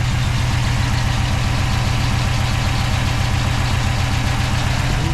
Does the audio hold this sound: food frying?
no